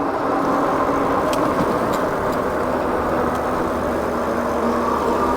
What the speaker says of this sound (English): Got a car behind us.